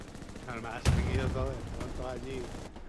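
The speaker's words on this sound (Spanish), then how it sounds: "Esos tiros de qué son, Palerka" In the World War II shooter game Hell Let Loose, gunfire cracks out: one loud shot followed by more distant shooting, under ongoing talk.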